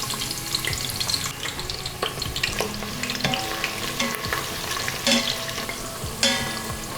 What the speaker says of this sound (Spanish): vamos a agregar la cebolla con mucho cuidado. Esto es para aromatizar la manteca.